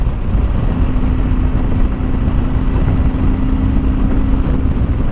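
A 2007 Honda VTX1300 trike conversion cruising in fifth gear, its engine a loud, steady low drone with a constant hum and wind rush, continuous and close, without talk.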